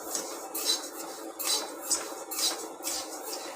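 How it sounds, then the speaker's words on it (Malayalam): Metal spoon scraping and stirring roasted rice and melted jaggery in a pan while making gud papdi, with repeated soft scrapes and clinks in a steady rhythm, close and fairly quiet. "നല്ലപോലെ ഇളക്കി കൊടുക്കണം."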